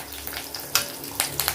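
Onions sautéing in hot oil for chicken kulambu, a soft steady sizzle with a few sharp crackles and stirring clinks over a short moment, no voices.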